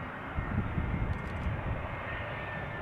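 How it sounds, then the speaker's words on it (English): A TAP Air Portugal Airbus A320 arrives at Schiphol Airport, its engines a steady broad rumbling roar at moderate distance, continuous and unbroken with no voices over it. "Tap Air Portugal arriving from Lisbon,"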